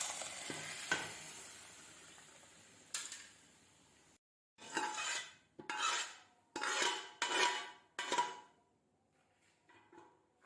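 A spoon scrapes and stirs chana dal through a thick mixture in a pot, in several bursts of rough swishing with brief pauses, alongside a soft sizzle.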